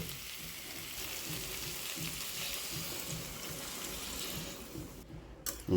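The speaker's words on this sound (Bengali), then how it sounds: "এখন পরিমাণ মতো জলটা দিয়ে দেব" Water is poured into a pan of sizzling, well-fried onion paste for omelette curry, giving a steady rushing hiss that lasts several seconds before cutting off abruptly near the end.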